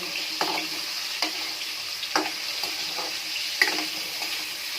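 Chicken browning in a pan for chicken curry, with a steady sizzle and occasional scraping stirs at a regular pace, close and without talk.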